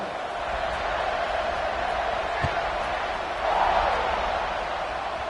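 Football stadium crowd roaring steadily as the kickoff is set up after an extra point, a dense wall of cheering with a brief swell near the end.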